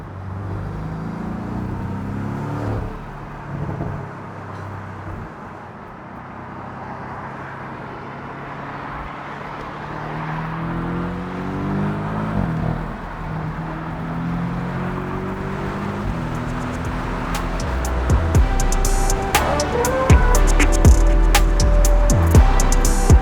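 A rented Porsche 718 Boxster accelerates up a freeway on-ramp, its engine note climbing and growing louder toward the end, heard from inside the car with road and wind noise.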